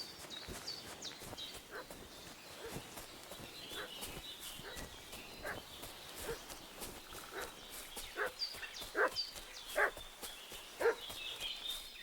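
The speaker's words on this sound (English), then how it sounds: "What's that dog making such a fuss about?" A dog barks repeatedly in short, scattered yelps at moderate distance in a medieval village setting from the game Kingdom Come Deliverance 2, with faint ambient outdoor noise between the barks.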